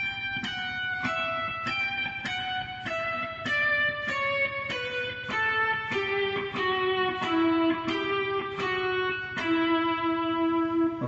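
Guitar playing measure 12 of Pachelbel's Canon in D, a steady run of clear single plucked notes stepping downward at an even pace, close and alone with no talking.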